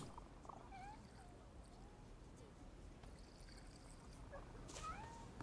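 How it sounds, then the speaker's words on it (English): A cat in the video game The Thaumaturge gives a couple of faint, short meows, one early and one near the end, over a quiet, low ambient hum. "I hear the cat purring, but I don't see it. I hear it meowing, and I don't find it."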